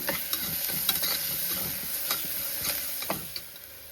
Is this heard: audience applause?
no